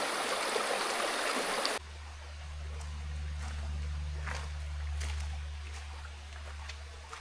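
A natural forest stream flows with a steady, quiet rush of water; partway through, a low continuous hum sits beneath the gentle trickle.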